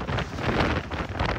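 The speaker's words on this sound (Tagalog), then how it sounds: "mas lalo pang lumakas ang Super Typhoon Nando" Strong gusts from Super Typhoon Nando roar across the microphone outside a town hall, a rough, buffeting rush that swells and dips throughout.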